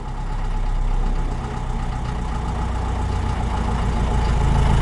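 A 1965 1¾-ton diesel truck engine with hand crank settles into a steady, loud low idle, a continuous rumbling chug heard up close with no talk over it.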